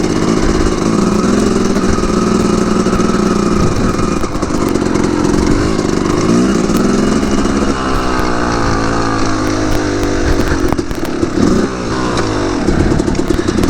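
A dirt bike engine revving and droning loudly and close throughout as the rider moves along, pitch rising and falling with throttle changes.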